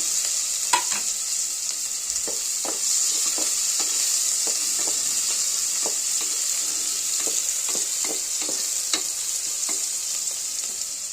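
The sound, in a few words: onions frying in hot oil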